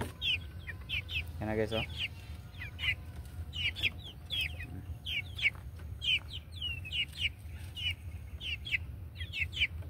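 Young pullets cluck and peep in repeated short bursts around a poultry yard, with a rooster or hen call rising briefly near the start and someone speaking a few words over the flock.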